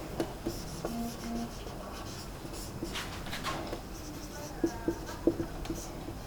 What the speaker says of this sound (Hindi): अब देखिए यहां पर इसका हम आंसर लिखते हैं।